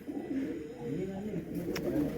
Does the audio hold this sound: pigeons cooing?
yes